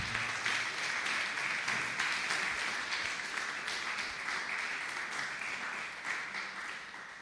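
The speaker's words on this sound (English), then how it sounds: "Let's clap again for him." A seminar audience at a leadership lecture claps steadily for about seven seconds, a dense, even applause that holds its level and then slowly tapers toward the end.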